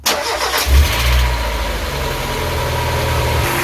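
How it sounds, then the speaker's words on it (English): A Mazda MX-5's engine cranks and catches, revving briefly before settling into a steady, close idle with a low rumble, freshly serviced with new spark plugs. "let's start her up again and see how she runs"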